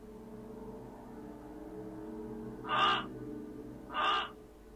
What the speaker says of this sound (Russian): Да, он еще как бы каркает.